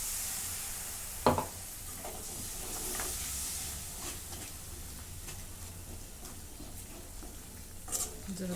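Onion-garlic masala sizzling as it roasts in a pan for an eggplant curry, a soft steady hiss with a couple of sharp utensil knocks and scraping stirs.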